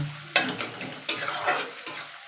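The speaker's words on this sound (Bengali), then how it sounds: "পেঁয়াজগুলো একটু লাল লাল করে ভেজে নেবো" Chopped onions frying in oil with a few sharp scrapes of a spatula against the pan, each stroke followed by a soft crackling sizzle, close and moderately loud.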